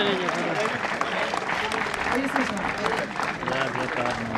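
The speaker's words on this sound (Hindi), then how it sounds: "एनसीसी के बच्चों के लिए जोरदार तालियां आप लोग बजाएं" Audience applause for NCC cadet children at a traffic awareness campaign event, steady and dense throughout, with voices and talk mixed in underneath.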